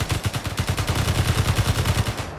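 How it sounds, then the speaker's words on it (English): Rapid automatic gunfire in the sci-fi survival game Lost Colony, a close, loud, evenly spaced burst of about twenty shots over a couple of seconds with no talk. "Can you shoot it?"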